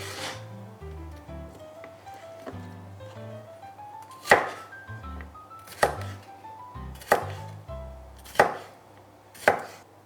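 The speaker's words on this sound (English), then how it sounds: "Give these guys a quick rough chop." A knife roughly chops peppers on a cutting board, with about five loud, evenly spaced thunks close by in the second half over soft background music and no talking.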